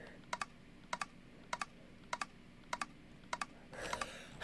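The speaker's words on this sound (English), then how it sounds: "I'm laying on my keyboard." A computer keyboard sounds as someone lies on it, giving six quick pairs of key clicks in an even rhythm, close and faint, then a short rustle at the end.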